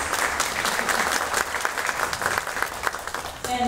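Applause from a conference audience honoring a councilwoman, steady clapping filling the room at close range for several seconds before tapering off at the end.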